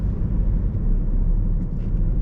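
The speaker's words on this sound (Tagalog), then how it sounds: "Build up na rin ng sasakyan dito." Building road traffic gives off a continuous low rumble of car engines and tyres passing close by, steady and fairly loud, with no one speaking.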